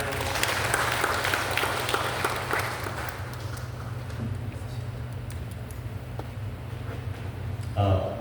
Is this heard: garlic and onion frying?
no